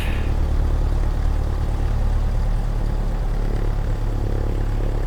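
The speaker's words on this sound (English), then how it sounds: "Listen to that engine sound. That sounds really great." A Cessna 152 engine idles in Microsoft Flight Simulator, giving a steady, close, unbroken low drone that holds an even level throughout with no voices.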